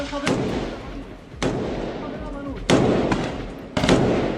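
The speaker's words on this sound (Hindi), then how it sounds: "ये फायरिंग की आवाज, ऑटोमेटिक फायर चल रहा है, ऑटोमेटिक वेपन में" Automatic weapon gunfire in a reported war zone: several sharp, loud bursts spaced about a second apart, each with a rough, ringing tail, over a steady noisy background.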